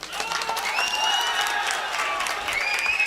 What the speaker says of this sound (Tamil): இன்னொரு முறை கைதட்டுங்கள்